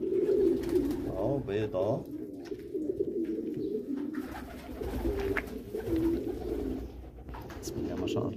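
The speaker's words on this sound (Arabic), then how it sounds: "معظم الحمام معاه بيض او معاه زغليل او بيطارد" Domestic pigeons on a pigeon farm, many sitting on eggs or with squabs, coo steadily and close by in soft low rolling calls, while someone talks over them.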